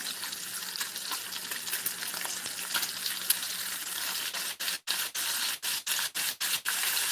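Bacon sizzles on high heat in a skillet, a dense continuous crackle that runs throughout, and near the end it is cut by a rapid series of short pauses.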